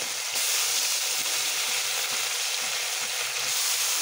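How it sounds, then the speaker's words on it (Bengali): Mixed small fish from the Padma river sizzle steadily in plenty of hot oil in a pan, a dense, continuous frying hiss close up with faint crackles. "আমার প্যানের তেলটি গরম হয়ে গিয়েছে। এখন অল্প অল্প করে কিছু মাছ দিয়ে নেব।"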